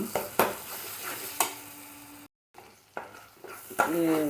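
A paste of poppy seeds, coriander, cumin, ginger and garlic frying with onions and tomatoes for a flat bean curry. The sizzle sits close and is broken by several sharp stirring scrapes and clatters against the pan.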